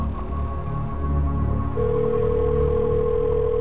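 A steady electronic phone tone hums on a speakerphone, joined partway through by a second sustained pitch, over a low background rumble.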